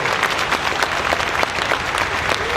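A concert hall audience claps for a middle school honor band, a dense, even wash of applause with crisp individual claps throughout, loud and sustained.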